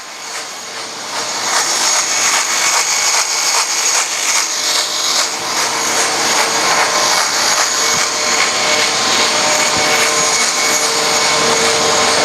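A bandsaw cutting through thermoformed plastic signs, a loud, steady high-pitched whine and buzz of blade on plastic that holds unbroken throughout, close to the listener with no talking.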